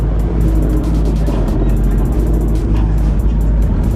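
A Dodge Hellcat engine at a Mopar car meet holds a loud, steady low rumble that fills the whole moment outdoors, with no clear revving peaks.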